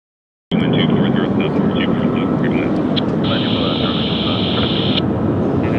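An Alaska Airlines jet airliner from Seattle roars on its landing rollout at LAX, a loud broad rush, while a radio voice chatters over it and a steady tone sounds partway through.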